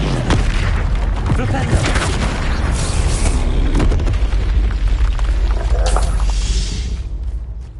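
Bombarda spell explosions in Hogwarts Legacy, a series of loud booming blasts with rumbling low end, mixed under a voice repeatedly calling out spell names.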